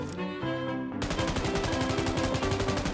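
M249 light machine gun with full attachments firing scoped in a shooter video game, a brief single report followed by a rapid, evenly spaced burst of loud automatic shots.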